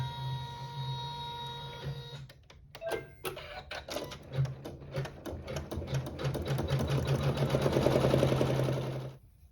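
An embroidery sewing machine stitches a tack-down through fabric, starting after a quiet lead-in with rapid regular needle clatter that grows busier and louder toward the end before stopping abruptly.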